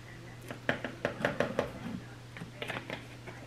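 A glass jar shifted on a table, giving a cluster of light knocks and clinks that come in quick succession, then a softer second group, with a steady low hum underneath.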